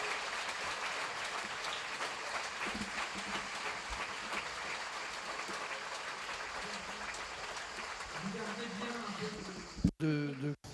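Sustained audience applause at a conference closing session in Aix, a steady even wash of clapping from a large hall that continues for several seconds before dropping off with a few sharp knocks and a voice at the end.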